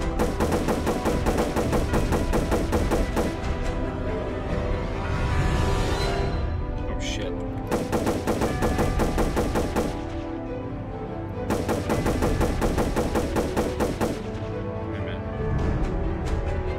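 Rapid, dense gunfire from the game-jam shooter The Search for Gems in Space crackles in long sustained bursts with brief gaps between volleys, loud and close.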